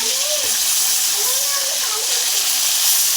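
A large hilsa fish head frying in a pan with onion and spices, a continuous loud hiss and sizzle that fills the whole stretch, with someone speaking over it.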